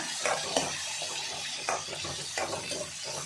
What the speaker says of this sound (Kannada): ಈಗ ಇದೆಲ್ಲ ಸ್ವಲ್ಪ ಫ್ರೈ ಮಾಡ್ಕೊಳ್ಳೋಣ